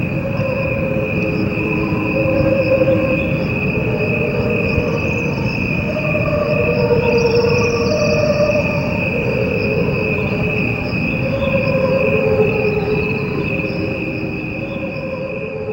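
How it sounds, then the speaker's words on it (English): Slowed-down crickets form a continuous, droning chorus with sustained layered tones that swell and fade gently, loud and unbroken throughout. "What you are hearing are the crickets only."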